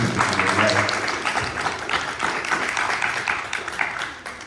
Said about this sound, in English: Audience, you are free to clap after each of the individual speakers